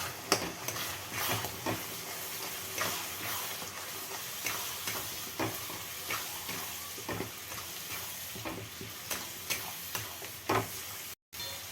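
Ground spice paste of green chilli, garlic, onion, tomato and ginger fries in oil in a pan, a steady sizzling hiss broken by frequent spatula scrapes and taps, with a brief dropout near the end.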